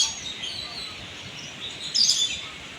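Small pet birds chirp and tweet steadily while feeding on yellow corn, a faint busy chatter with a brighter burst of calls near the end.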